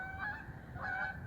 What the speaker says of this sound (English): Canada geese are coming back.